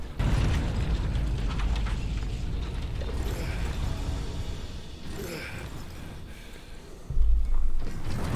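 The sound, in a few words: room collapsing in the video game Warhammer 40,000: Space Marine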